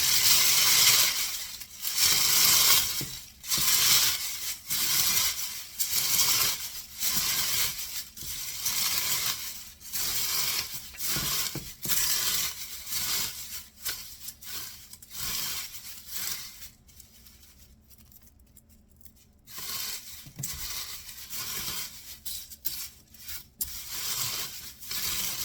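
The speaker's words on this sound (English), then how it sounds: "So now I'm gonna break all these leaves up." Dried basil leaves crumbled and broken up by hand, a close, steady run of crisp rustling and crackling crunches that carries on for most of the stretch and eases off briefly near the end.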